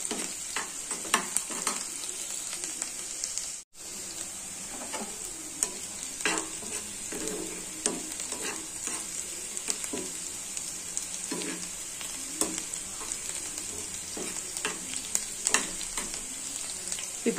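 Green chillies fry in hot oil for coconut rice, a steady crackling sizzle with frequent spoon scrapes and taps against the pan, close up with a brief dropout partway through.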